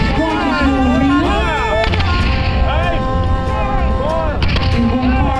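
Black-powder muskets fired by file at a US Civil War reenactment in a small outdoor arena, as a few sharp reports cracking out one at a time beneath a loud, continuous voice and crowd noise.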